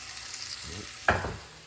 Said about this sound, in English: So put these peppers and onions in here.